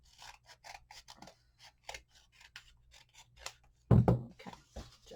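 Scissors trim craft material for a festive gnome shoe, with a run of quick, close snipping cuts followed by a louder rustle of the material being handled.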